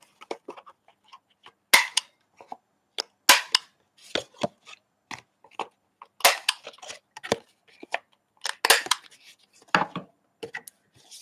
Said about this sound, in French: Je vais découper ça sur le milieu.